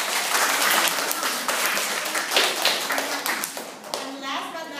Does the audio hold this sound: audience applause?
yes